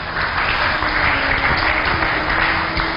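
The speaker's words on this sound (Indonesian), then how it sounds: "tepuk tangan." Steady, dense applause from a large gathering, a loud unbroken wash of many clapping hands that holds evenly throughout.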